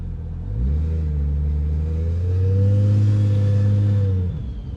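Imported 1000-horsepower sleeper car on an E85 flex-fuel tune pulling away, its deep engine drone rising steadily and holding for a few seconds before easing off, heard from inside the car with no talking.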